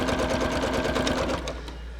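A domestic sewing machine stitches through thick layers of folded tablecloth, its needle thumping in a steady rapid rhythm that slows and stops near the end, loud and close.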